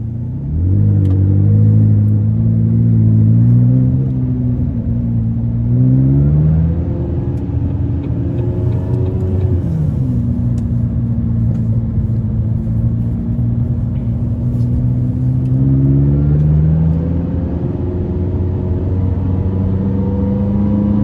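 A 2017 McLaren 570S sports car with a 664 hp engine drives on a public road, its engine rumbling loud and close from inside the cabin and rising in pitch through several long acceleration pulls, with no talking.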